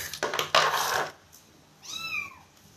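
A young kitten gives one clear, rising and falling meow, near and moderately loud, after a burst of rustling and clattering handling noise.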